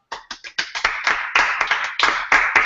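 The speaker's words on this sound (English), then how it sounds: "can we all just give my father a round of applause?" A small round of applause for the host's father on a leadership show. A few close hands clap in quick, uneven bursts, loud and crisp, building into a steady patter.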